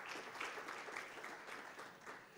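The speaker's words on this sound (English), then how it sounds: "So, round of applause for yourselves." Conference audience at a capital markets event claps in a dense, sustained round of applause, faint and distant, steady for a couple of seconds.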